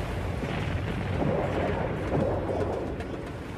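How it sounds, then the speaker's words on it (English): The volcanic eruption at Santorini, rendered as a deep, continuous roaring rumble that swells and holds steady throughout, loud and broad like a sustained explosion with no voices. "When it blew, the eruption blasted the mountain apart."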